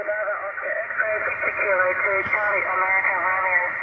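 Amateur radio signal received in a home radio shack on a 3-element antenna, a steady, band-limited transmission carrying a clear voice speaking over a constant background hiss.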